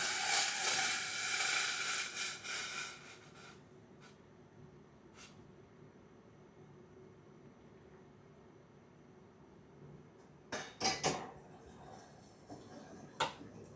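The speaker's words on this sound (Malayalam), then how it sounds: "വെള്ളം തിളച്ച് നമുക്ക് അടുത്ത പാത്രത്തിലേക്ക് ഒഴിച്ചു കൊടുക്കാം" Boiling water is poured into a cup noodles container, a soft rushing hiss for a few seconds, followed by quiet and a few light knocks and taps.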